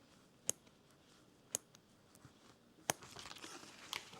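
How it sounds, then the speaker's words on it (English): Scissors snip fabric at a quilting and sewing session, with four sharp, isolated clicks spaced about a second apart, faint and close, followed by light rustling. "make scissors snapping"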